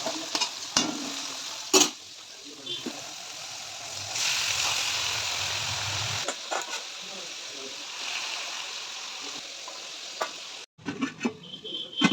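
Jhuri bhaja, a crispy fried snack, cooking in a pan with a continuous sizzle, occasional stirring clatter and scraping, and a person speaking intermittently over the frying.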